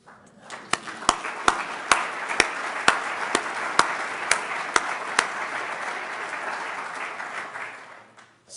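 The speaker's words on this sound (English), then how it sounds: "So if I can give you a round of applause," Steady audience applause in a hall at a Duke Medicine address, dense clapping sustained for about eight seconds with a few sharper individual claps standing out, fairly loud and without talk.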